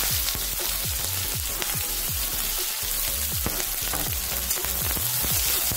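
Two medium onions, chopped, frying in hot mustard oil: a loud, dense, continuous sizzle with crackling pops throughout, close up and with no talking.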